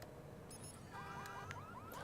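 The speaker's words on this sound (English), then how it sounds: "We can trip this alarm." Car alarm in the video game Watch Dogs: a faint, repeating rising electronic whoop sounds in quick cycles over low background noise.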